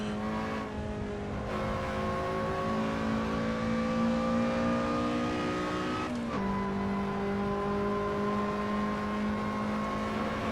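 A Lotus Elise SC sports car runs a timed track lap through the final bend, its engine droning steadily at high revs with a brief gear change midway, heard from inside the car and continuous throughout.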